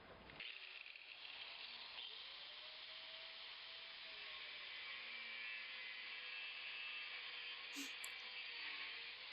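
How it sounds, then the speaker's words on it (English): An angle grinder fitted with a cutoff wheel cuts steel in a steady, continuous high-pitched whine. It runs loud and close for the full length, with a brief sharper spark near the end. "So I'm using a cutoff wheel on a grinder."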